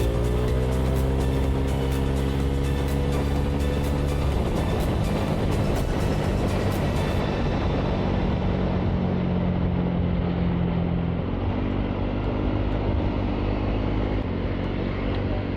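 Riding a Honda Click 160 scooter on a road, engine tones shift in pitch as vehicles pass and the scooter overtakes, with loud steady wind and road roar throughout.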